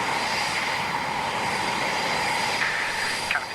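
An RAF Eurofighter Typhoon with its engines running taxis out, giving a steady, loud jet whine and roar heard from inside the cockpit.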